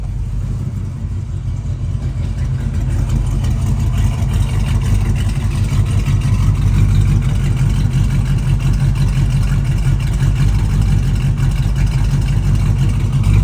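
A 1971 Ford Mustang engine idles steadily and loudly up close, a constant low rumble with no voices over it.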